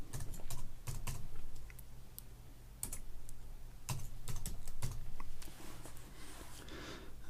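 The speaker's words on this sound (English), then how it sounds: "And I'll click, and I'll type me City Heat." Someone types on a computer keyboard, with quick clusters of crisp keystrokes separated by brief pauses, close and fairly quiet, and no voices.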